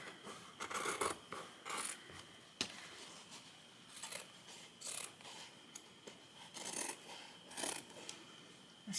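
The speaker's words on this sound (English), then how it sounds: "so I'm using my scissors, and it's just not looking the greatest" Repeated crisp scissor snips through fabric in irregular bursts, a steady series of cuts for a junk journal cover, fairly quiet and close, with no talking.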